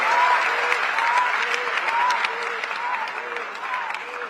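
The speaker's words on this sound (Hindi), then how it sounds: "अगर बदली है तो जोरदार तालियां देश के प्रधानमंत्री नरेंद्र मोदी के लिए।" A crowd at a university convocation ceremony applauds for the prime minister, a continuous, fairly loud wash of clapping from many hands with a few sharp claps poking through and a faint tonal sound repeating underneath.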